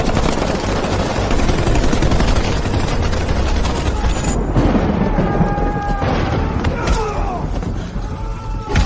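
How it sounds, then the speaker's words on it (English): Rapid gunfire pours at a beast in an animated film, a loud dense barrage of shots and thuds that holds for several seconds before thinning out amid a clash of effects. "Open fire! Bring the beast down!"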